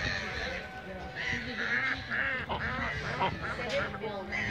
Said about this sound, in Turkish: Köy cizlikte ördekler ve kazlar nerede?